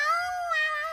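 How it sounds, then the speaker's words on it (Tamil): A cartoon kitten gives one drawn-out, wavering meow of moderate loudness, heard alone without speech in a Tamil-dubbed animated episode. "பூனைக்குட்டி."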